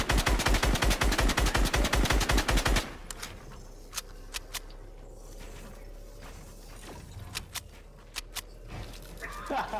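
A rapid burst of video game gunfire, like an automatic weapon, opens loudly, followed by scattered single shots and clicks over a low background hum.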